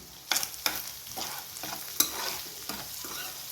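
Egg bhurji seasoned with pepper powder is stirred in a pan with several distinct scraping strokes at an uneven rhythm over a soft, steady sizzle, close and alone.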